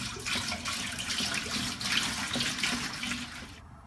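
Water runs from a tap into a brewing pot on an IPA brew day, a steady close splashing and rushing stream that fills the pot continuously with no voices.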